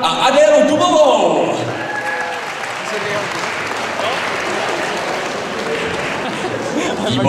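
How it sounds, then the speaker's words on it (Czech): Audience applause for a pair of Latin dancers at a dance event, a loud burst of clapping that settles into steady, dense applause running throughout. "Ještě jednou prosím potlesk pro Richarda Gardla a Adélu Dubovou."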